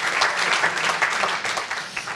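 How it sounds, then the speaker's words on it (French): Audience applause fills a ceremony hall at a French awards event, dense and steady clapping from a large crowd throughout, with no pause or voice on top. "applaudissez-vous. Bravo à vous."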